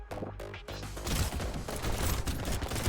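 Dual rocket launchers fire in the game Brotato: a dense, continuous barrage of overlapping blasts and booms, loud and steady throughout with no pauses.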